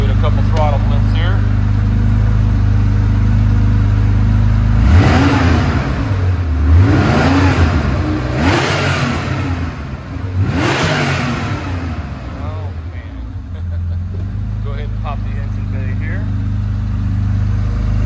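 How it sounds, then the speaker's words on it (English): A 1974 Porsche 911 Carrera engine revs up in three close, loud throttle blips, each rising and falling back, then settles to a steady idle under a continuous engine rumble. "Go ahead and give it a couple throttle flips here."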